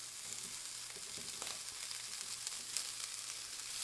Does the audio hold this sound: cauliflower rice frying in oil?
yes